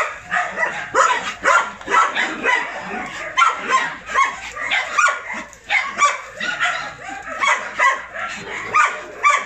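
An excited two-year-old neutered male shelter dog barks and yips repeatedly in quick, loud bursts, close to the listener. A person's voice is faintly mixed in.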